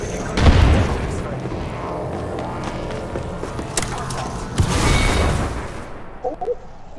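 Gunfire in Apex Legends, with heavy booming shots up front and a loud roaring burst near the end, set against a busy battle soundscape with occasional voice.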